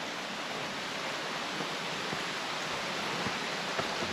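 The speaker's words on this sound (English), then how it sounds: "Beautiful creek though, it really is." Steady, even rushing of flowing water fills the whole clip, a constant broadband wash like a nearby creek, with no voices.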